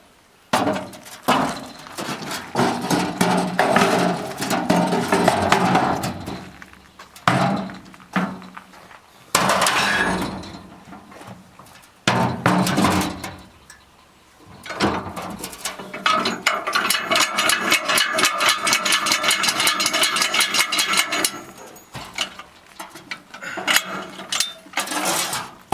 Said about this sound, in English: and then I might do a little hammer work on it.